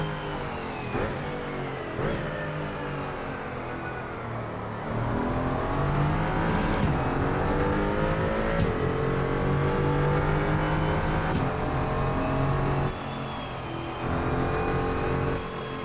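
A Mercedes-AMG GT4 EVO race car in a racing video game, running a night lap of the Hong Kong street circuit with broken steering, its engine droning steadily and rising in pitch through repeated upshifts, loud and continuous with no talk.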